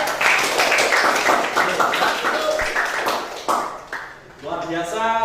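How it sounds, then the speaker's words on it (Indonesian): A classroom audience of students claps loudly for a group presentation, brisk clapping that fades out, followed by a voice starting to speak. "kita kasih tepuk tangan yang meriah"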